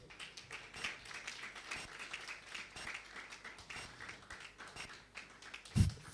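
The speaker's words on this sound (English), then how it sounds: "you will stand and clap" Scattered applause from an audience at a FIFA World Cup launch event: quiet, uneven clapping that runs throughout, with one louder, sharper burst near the end.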